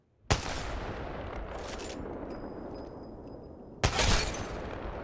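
A sniper rifle shot in the video game Apex Legends, a heavy, booming blast with a long, dense rumbling tail, followed a few seconds later by a second loud report.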